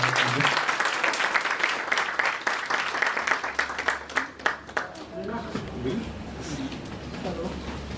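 Audience applause at a business chamber felicitation ceremony, a dense burst of clapping that thins out partway through, with scattered claps and background murmur continuing afterward.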